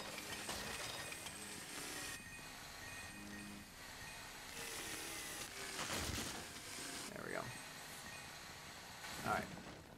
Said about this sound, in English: Enough chainsaw.